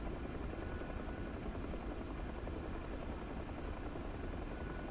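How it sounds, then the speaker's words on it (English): Several helicopters in a video game drone steadily with a continuous rotor thrum and whine, moderately distant and even in level from start to finish, with no voices. "We're gonna join that side with like 3-4 helicopters."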